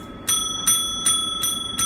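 A bicycle bell rings five times in an even rhythm, each bright ding close and clear over a faint background.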